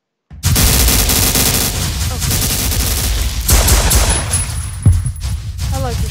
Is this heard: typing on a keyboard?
no